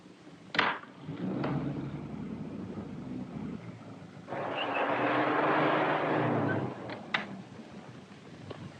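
A 1930s-era car engine drones steadily during a pursuit in an old detective drama, with a louder rushing swell midway and a couple of sharp transient bangs, with no speech.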